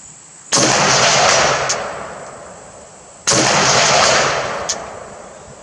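Two loud K1A1 rifle shots a few seconds apart, fired at a target 200 away, each a sharp crack followed by a rolling outdoor echo, with a faint distant impact report trailing after each.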